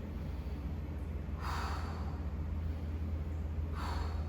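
Two distinct breaths, one at a time and spaced a couple of seconds apart, come during hamstring stretching in a forward fold, fairly close over a steady low hum.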